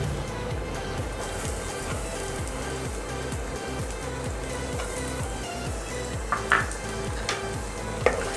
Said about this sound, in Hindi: डाल देंगे लहसुन